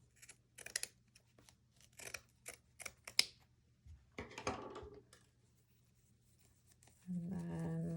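Scissors snip through burlap for a Christmas wreath in a run of quick, crisp cuts, close and fairly quiet, followed by a short rustle of fabric and a louder low hum near the end.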